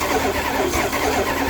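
A 1966 Dodge Dart engine turns over on a jumped battery, a steady mid-pitched whirring drone that is loud, close and continuous, with no voices.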